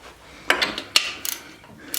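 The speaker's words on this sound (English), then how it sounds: "Now we'll use our socket." A socket wrench ratchets on a Harley-Davidson during an oil change, giving a few short, sharp metallic clicks in quick bursts, close by with no talking.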